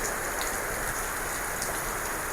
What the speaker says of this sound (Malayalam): പുറത്ത് അടിപൊളി മഴയാണ്